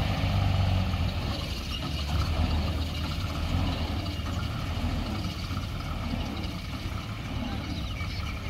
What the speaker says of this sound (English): This truck is sprung alive and now it's going over here.